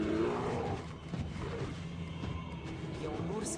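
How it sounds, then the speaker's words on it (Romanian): A grizzly bear roaring in an animated cartoon: a deep, loud, continuous growling roar filling the short clip, with a rumbling low end and no clear talk over it. "E un urs grizzly, știam eu."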